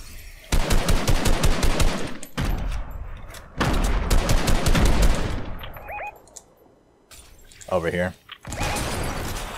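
Grenade launcher fire and explosions in a video game, rapid repeated bursts and heavy blasts in several loud clusters with short gaps, under players talking.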